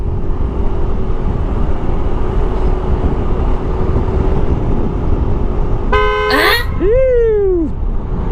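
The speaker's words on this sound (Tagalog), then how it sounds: "Buti na lang malakas yung busina natin na bago." On a busy road, the new horn of a Yamaha NMAX scooter gives two loud honks, one short and one slightly longer. They cut over steady engine and wind rumble near the end.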